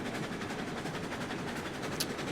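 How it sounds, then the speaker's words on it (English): A long freight train rolls steadily along rails in RailRoads Online, a continuous broadband rumble with faint rhythmic clatter, heard alone and fairly loud throughout. "Get a good look at the length of the train there."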